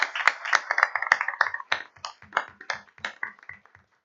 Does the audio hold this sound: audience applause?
yes